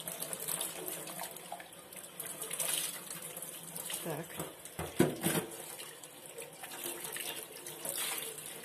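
Water runs steadily from a tap with a bright hissing splash, broken by some clattering as glass jars are rinsed; a voice speaks a single brief word.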